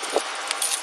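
Several sets of car keys jangle in a quick metallic clatter, close and fairly loud, with a few brighter jingles toward the end of the brief burst.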